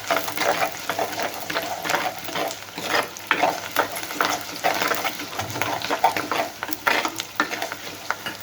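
Dried red chillies sizzling in hot oil in a pan for dal, stirred steadily throughout with repeated close scraping strokes over a continuous frying hiss, and no talking.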